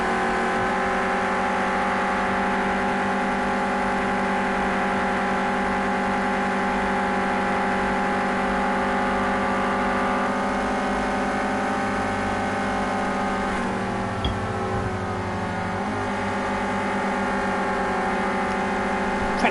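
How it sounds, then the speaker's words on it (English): Onboard engine note of a Renault Clio Cup race car lapping Willow Springs in a racing game: a loud, sustained high-revving drone that holds near the limiter, with a brief dip and shift in pitch near the end, no voices. "let's go on board with Manic actually. Let's take an onboard view for a little while, and just to see the real nature of this track. And I'll give you some engine notes as well"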